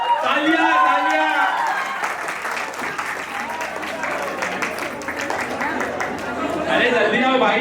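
Crowd applause and clapping at an engagement ceremony, loud and continuous, mixed with chatter and voices throughout.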